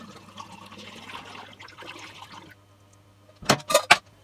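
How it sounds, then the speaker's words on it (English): Cooled sugar solution poured into a glass demijohn while making wine from carton fruit juice: after a quiet stretch of low background noise, a few short, loud splashing, glugging bursts come close together near the end. "What I'm going to do is I'm going to pour this into the demijohn."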